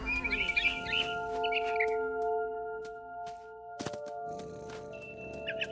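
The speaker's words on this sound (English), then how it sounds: "Then I heard chirping outside my window. It was a barn swallow going back to her nest." Barn swallow chirps in the video game What Remains of Edith Finch: quick bursts of high twittering over a steady tonal music drone, followed by a dull thump and a few more faint chirps near the end.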